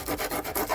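Fine 150 or 180 grit sandpaper rubs over car paint around a chipped spot in quick, rhythmic back-and-forth rasping strokes, close and quiet.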